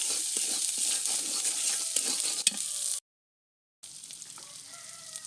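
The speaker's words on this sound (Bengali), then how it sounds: "পেঁয়াজ রসুন কষানো গেছে" Onion and garlic sautéing in a pan with chili, salt and turmeric, giving a close, busy sizzle with scraping stirs. It cuts out to a brief silence, then returns softer.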